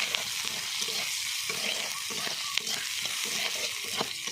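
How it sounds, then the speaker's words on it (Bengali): Onions frying in a pan, a constant close sizzle broken by repeated scraping strokes of a spatula stirring them at an irregular pace, with no voices. "পেঁয়াজ দিয়ে দিলাম, পেঁয়াজটা ভালো করে ভেজে নিতে হবে।"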